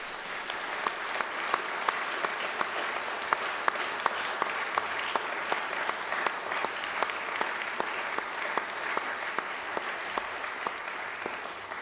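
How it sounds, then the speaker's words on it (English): A chapel congregation at a prefects' service applauds itself, a sustained, moderately distant wash of many hands with a few sharper individual claps standing out throughout. "I want you to give yourselves a round of applause"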